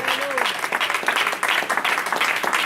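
Dense applause from a congregation at a Christian church service fills the whole stretch, with a voice speaking over the clapping near the start.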